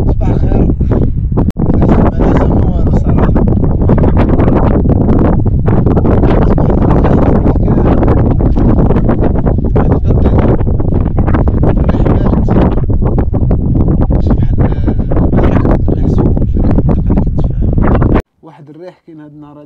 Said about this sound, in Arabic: الريح بزاف ما كيخليكش تمشي